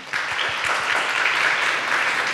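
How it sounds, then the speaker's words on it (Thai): Seminar audience applauding to welcome two speakers, with a few distinct claps starting then merging into steady, moderately loud applause throughout. "ขอเสียงปรบมือต้อนรับทั้งสองท่านด้วยค่ะ"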